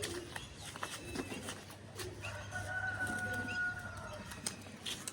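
Pigeons kept for flying make soft cooing sounds in the background, set against outdoor ambience with faint scattered chirps and clicks and no speech.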